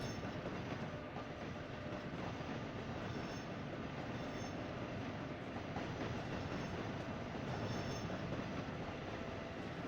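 A train in a central European train-driving video game runs at speed with a continuous rumbling roar and wheel noise, faint and steady throughout with no talking.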